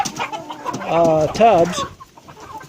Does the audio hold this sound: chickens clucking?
yes